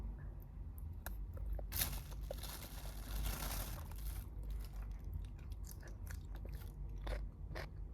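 Close-up biting and chewing of fish balls, with crunchy, wet chewing noises and occasional crinkling, steady and near throughout without talking.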